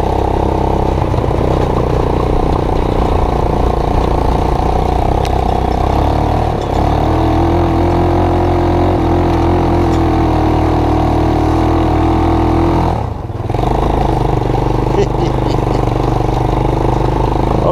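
A sketchy ATV and golf cart hybrid build runs in third gear doing donuts, its engine droning loudly and steadily with a rising tone midway, a brief dip, then a continued rumbling churn.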